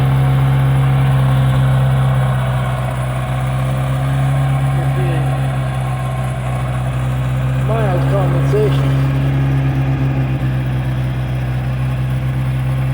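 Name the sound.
Geo Tracker engine idling at 2,000 RPM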